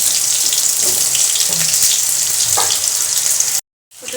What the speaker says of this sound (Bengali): আগে আলুগুলো ছেড়ে দিয়ে এর মধ্যে একটু সামান্য জিরে দিয়ে দেবো